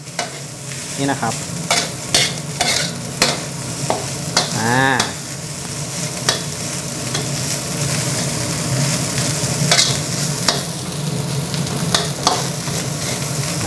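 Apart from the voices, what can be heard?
rice stir-fried with soy sauce in a pan over high heat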